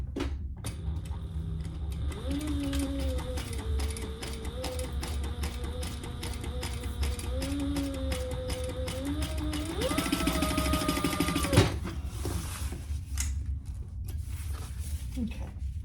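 Sewing machine stitching fabric for a family travel organizer, including a short back stitch; a steady mechanical whir runs throughout with a rising pitch toward the end, fairly close, while a person talks over it.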